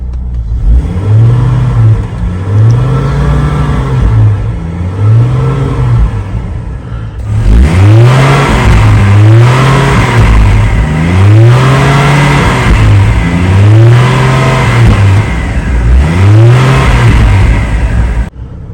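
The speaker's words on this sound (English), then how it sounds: "So do a little quick rev here." 2005 GMC Envoy SLT engine revving: a steady idle rises into repeated quick throttle blips, each swelling and falling, loud and close with no talking.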